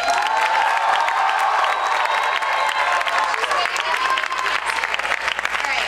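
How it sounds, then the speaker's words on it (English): Loud audience applause and cheering fill a school talent show hall, with whoops and shouts rising over steady clapping throughout, and some voices mixed in. "In the lighting booth, can we all give a huge round of applause for Maha for"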